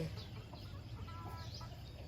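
Chickens cluck softly in the distance over a steady low outdoor rumble, a few scattered calls with no talking.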